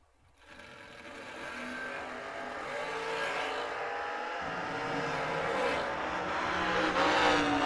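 Drag racing Camaro at a Great American USA $500K race, engine roar building steadily from near silence into a loud, sustained run that keeps rising toward the end.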